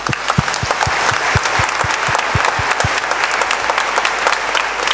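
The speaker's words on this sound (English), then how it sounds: "Clap for your Jesus." Church congregation clapping for Jesus at a sermon, loud close rhythmic claps in a quick regular beat over a dense crowd applause wash that continues for about five seconds.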